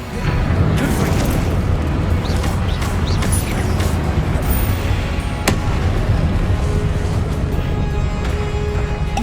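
Confringo fire-blast spell cast repeatedly in the video game Hogwarts Legacy, a dense continuous rumble of booming impacts and crackling bursts with sharp transients, loud and close throughout.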